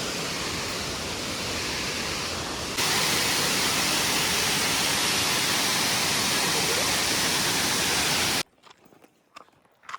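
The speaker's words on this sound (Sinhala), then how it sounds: "මේ තමයි අපි බලන්න ආපු බේකර්ස් ඇල්ල" Baker's Falls on Horton Plains roars as a dense, loud, constant rush that grows slightly stronger partway through, then cuts off abruptly near the end, leaving faint scattered sounds.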